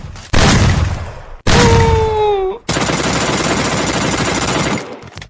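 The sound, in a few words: M10 gunfire in a video game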